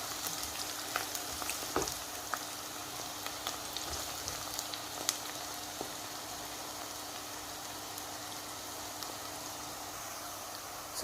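Kofta meatballs fry in a pan for a meatball curry, giving a soft, steady oily sizzle with scattered faint pops and crackles, quiet and continuous throughout.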